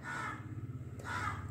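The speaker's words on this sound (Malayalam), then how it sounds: "ഇവിടെ കാക്കയുടെ ഒച്ചയുണ്ട്" Crows caw outdoors, two harsh calls a second apart, standing out clearly over a faint low background hum.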